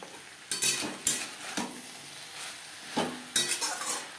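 Eggplant pieces are stirred into flat beans and bottle gourd peel frying in a pan, giving a low sizzle broken by several sharp clinks and scrapes of a spoon against the pan, close and fairly quiet.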